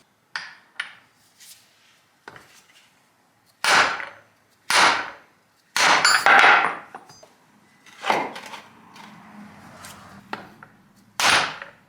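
Sharp metallic hammer strikes land in irregular bursts, some single and some in quick pairs, close by with short pauses between blows, driving a solid differential bushing into place on a Nissan 350Z.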